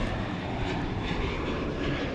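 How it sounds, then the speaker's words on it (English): A Southwest Airlines Boeing 737 at Dallas Love Field airport at night, its jet engines producing a steady, loud roar that holds evenly throughout with no talking. "Southwest operates exclusively 737 type aircraft"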